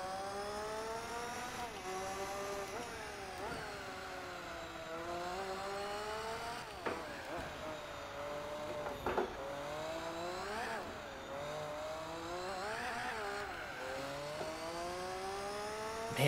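A car engine in Gran Turismo 4 droning in third gear at low RPM, a steady buzzy tone whose pitch rises and dips repeatedly as it labors, moderately loud and continuous with no talking.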